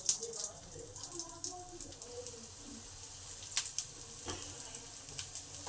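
Snacks made from flour sizzle in a little oil in a hot pan. The frying is soft and steady, with scattered pops and light clinks, and faint sounds in the background.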